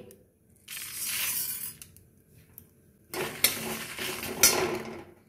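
Dried chili and fennel seeds rattle and scrape in a dry pan as they are stirred, in two separate bursts with a quiet gap between them.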